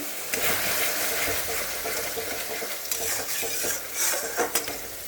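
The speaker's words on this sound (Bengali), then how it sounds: "এটা মশলা ভাজা হোক, পরে আমি আসছি আবার।" Spices sizzling in a pan as they fry with salt and turmeric, with close stirring scrapes and clinks of a utensil against the pan over a steady crackle.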